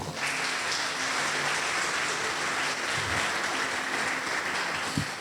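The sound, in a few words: congregation applause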